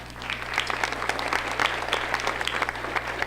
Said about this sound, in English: So I think you should give yourself a round of applause.